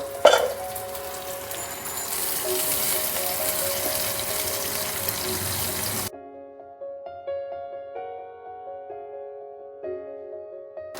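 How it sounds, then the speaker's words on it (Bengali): Ginger and garlic fry in a pan for Chinese-style dragon chicken, a steady close sizzle for about six seconds that cuts off abruptly and gives way to tonal music. "আদা রসুনটা একটু হালকা করে ভেজে নেব"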